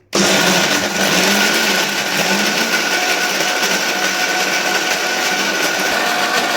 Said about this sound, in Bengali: আমি মিক্সিতে এটা এখন পেস্ট করে নেব জল ছাড়া